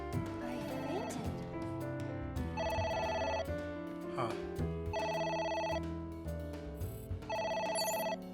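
A phone rings repeatedly inside the video game AI: The Somnium Files, bright electronic ring bursts in regular bursts over a musical score, with a voice briefly reacting between rings.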